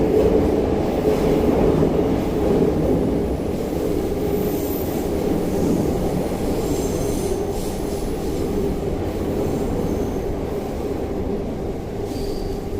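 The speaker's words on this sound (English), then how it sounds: "Must be quite noisy to live in these apartments just next to the train tracks" A Yamanote Line train in Tokyo's Meguro area rumbles steadily along the tracks beside apartments, with rolling wheel noise and occasional faint squeals, loud and continuous throughout.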